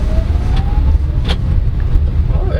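A 2024 BAW MPV electric minivan accelerating, heard from inside as a low rumble of road and tire noise with a faint rising electric whine and a few small cabin knocks.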